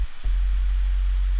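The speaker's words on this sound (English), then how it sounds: "I used the hip hop sub here" A hip hop sub bass synth booms out a deep, loud sustained low note with a quick pitch-bend glide near its start, under a hissy wash of noise.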